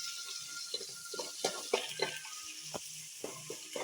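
Onions sauté with rock salt in a pan, giving a soft steady sizzle with light stirring scrapes and occasional clinks, close and fairly quiet with no talking.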